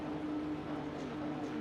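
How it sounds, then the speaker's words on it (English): Porsche Cup cars' flat-six engines drone steadily on the grid at Fuji International Speedway in the iRacing game, a constant, fairly quiet engine hum with no clear rise in revs. "It's the sound of screaming flat sixes"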